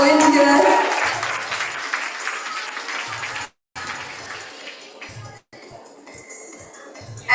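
Audience applause for volunteers at the Enchanté Extravaganza 2026 event, a dense burst of many hands clapping that tapers off, then returns in patchy, thinner bursts broken by short silent gaps.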